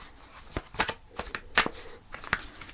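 Tarot cards being shuffled in several quick riffles and snaps, close and crisp, with short pauses between bursts and no talking.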